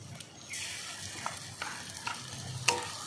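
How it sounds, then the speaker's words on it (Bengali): Onion, garlic, ginger paste and green chili paste stir-fried in a pan for a prawn and bamboo shoot curry, with a soft continuous sizzle broken by scraping stirs and a sharp utensil knock near the end. "ভালো করে আরেকটু কষিয়ে নেব"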